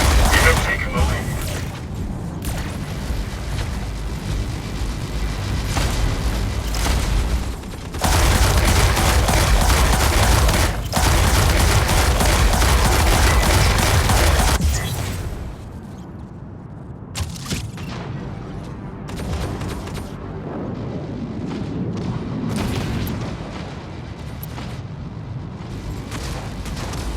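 Gunfire and explosions from the mech combat video game Mech Arena, a dense, loud barrage of blasts and booms that drops off briefly after a heavy stretch, then returns as scattered shots, with a game voice announcing over the action.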